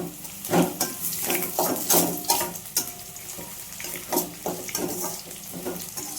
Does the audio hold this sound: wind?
no